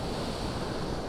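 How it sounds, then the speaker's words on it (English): Sea waves wash steadily onto a snowy winter beach at Lake Saroma in Hokkaido, a continuous broadband roar of surf with light wind noise and no voices. "There's really nice waves"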